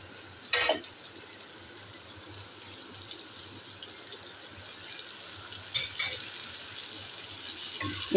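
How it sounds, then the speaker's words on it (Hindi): Spices frying in a pan with a little added water for a chicken dish, a soft steady sizzle with a few louder scraping stirs. "इन सबको अच्छे तरीके से फ्राई कर लेती हूँ।"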